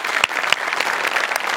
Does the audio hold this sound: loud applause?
yes